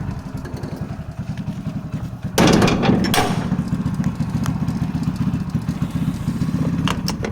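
A Bullet motorcycle idling nearby with a steady thumping engine beat that grows louder and rougher partway through as it is revved, continuing at a raised level; faint voices are present in the background.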